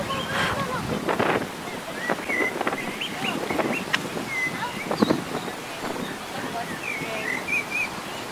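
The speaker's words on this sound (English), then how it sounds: "Oh, it's so windy." Strong wind on the Napa River buffets the microphone in gusty rumbles over lapping water, with faint chirps and a voice briefly heard.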